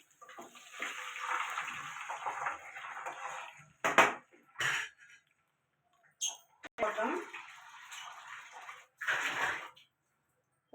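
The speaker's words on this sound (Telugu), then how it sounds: "ఇందులో వాటర్ పోసేద్దాం." Water poured into a cooking pan over fried onion for semiya upma gives a steady broadband rush for several seconds, then returns in shorter bursts separated by quiet gaps, with a voice speaking nearby.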